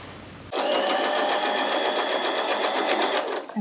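Sewing machine stitching quilt fabric pieces with a quarter-inch foot, starting abruptly and running as a steady, fast, close mechanical whir with a rhythmic needle clatter for about three seconds.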